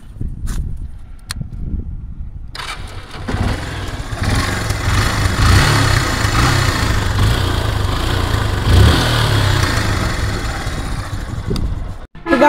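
A Yamaha FZ S v1 motorcycle in good condition starts up close by after a quiet moment, then runs with a steady mid-pitched engine note and a brief rev near the end.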